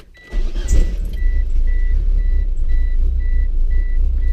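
A car engine with a failing clutch cranks and catches, then settles into a steady idle that runs on, with a regular electronic beep repeating over the engine hum.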